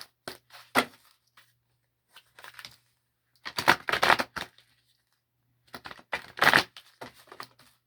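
Three quick bursts of tarot cards being shuffled, crisp riffling flutters separated by pauses, close and alone with no talking.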